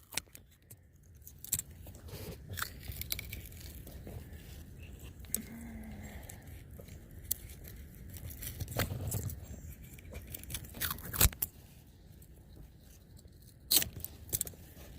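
Faint, sharp snips cut a worm-damaged plant piece shorter in a quiet setting, scattered among soft rustling and handling noises, with a couple of crisper clicks toward the end.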